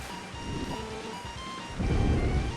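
Steady rain hisses in the SNES game The Firemen while low thunder rumbles beneath, swelling louder in the second half alongside a thin sustained electronic tone.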